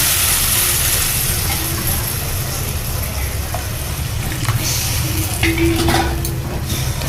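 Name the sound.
sizzling spice masala in a pan as gravy is added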